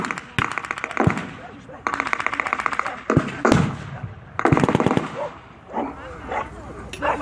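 Loud bursts of rapid blank gunfire and sharp single reports from a World War II battle reenactment in an open field at Crowle, with mortar rounds thudding in; volleys come in clustered waves under an announcer's commentary.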